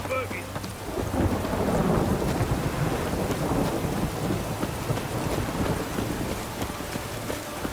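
A rainstorm in The Witcher 3: Wild Hunt, with steady rain and a deep rolling thunder rumble as a continuous wash of sound and no voices.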